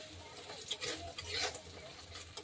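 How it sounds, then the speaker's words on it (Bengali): Bori lentil dumplings fry in a pan, a faint soft sizzle with gentle stirring scrapes and small crackles rising and falling, quiet and close with no talk. "বড়িগুলো ভালো করে একটু লাল লাল করেই ভাজবো।"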